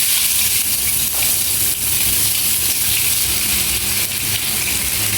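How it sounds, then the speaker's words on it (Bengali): Chopped onions sizzle in hot oil as the base for mustard pangas fish, giving a steady, loud, close frying hiss that crackles continuously without pause and without voices. "এবার এই পেঁয়াজ কুচিগুলো এবার হচ্ছে এই তেলের মধ্যে দিয়ে দিই"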